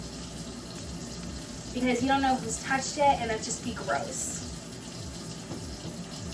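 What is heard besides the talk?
tap water spraying while washing bananas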